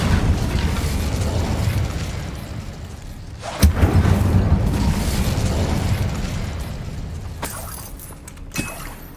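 An Incendio fire spell cast in Hogwarts Legacy bursts with a sharp crack, then a roaring whoosh of flame and a second, fainter pop near the end over rumbling game ambience.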